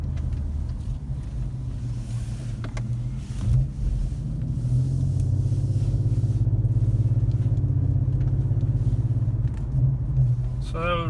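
Infiniti Q50S engine in sport mode with manual shifting, revving to around 2,000 RPM: a steady low rumble that swells and holds, heard from the cabin with a few faint clicks and no talk over it.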